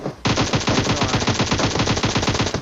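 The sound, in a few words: machine gun fire in the PUBG Mobile video game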